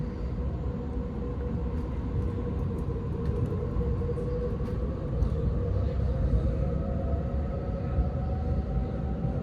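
A Sydney suburban train runs between Granville and Clyde stations with a continuous low rumble and steady hum from inside the carriage, faint ticks and clicks of the wheels on the track scattered throughout.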